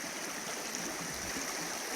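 Creek water rushing over bedrock at Sailors Creek near Daylesford, a steady broad hiss of flowing water, close and unbroken for the whole stretch.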